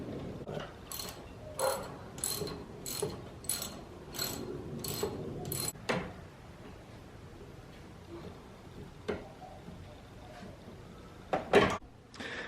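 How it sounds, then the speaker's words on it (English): Bolts going through a C5 Corvette tensioner pulley and being tightened by hand, a run of close, quick metallic ratcheting clicks in bursts, then sparse light taps and clinks. "I'm gonna put the bolts through them. And we're gonna, yep, hand tighten them."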